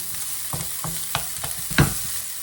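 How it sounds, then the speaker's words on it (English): Chopped onions frying in a hot pan, a continuous hiss broken by about six rhythmic scraping stirs, the last one loudest, close by with no voices. "So once this is hot, we're going to add the chopped onions first. And we'll give it a mix."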